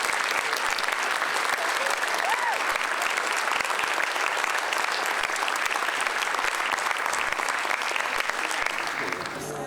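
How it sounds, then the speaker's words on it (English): Sustained, dense applause from an audience after an amateur radio contact with an astronaut on the space station, steady and loud throughout with a slight fade at the end. "So I think you all need a round of applause yourselves."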